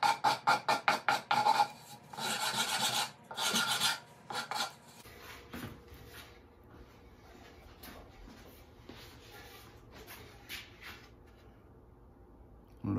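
A wooden project is hand-sanded in rhythmic back-and-forth strokes, close and fairly loud at first, then lighter, quieter rubbing with occasional scrapes and knocks.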